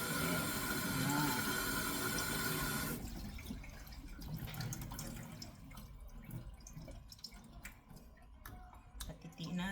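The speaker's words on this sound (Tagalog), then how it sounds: "babanlawan natin ng malamig na tubig para ma-stop yung cooking process niya" Cold tap water runs steadily over freshly cooked food being rinsed to stop the cooking, a loud splashing gush for the first three seconds that then drops to softer trickling and dripping, with clinks and a voice talking quietly beneath.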